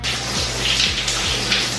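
Shower water runs steadily at close range, a broad continuous hiss and spatter with no voices over it.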